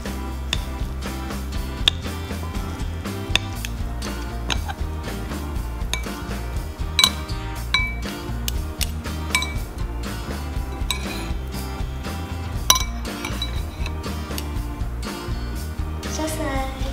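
Instant noodles being stirred with sambal in a bowl, with close, steady clinks and scrapes of a utensil against the bowl that continue throughout.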